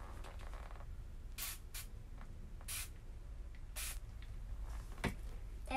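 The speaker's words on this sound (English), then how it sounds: "So I spray it." A spray bottle mists a leather piece during a basic leathercraft project, giving several short, crisp hissing bursts spaced a second or so apart over a low background hum, with no talking.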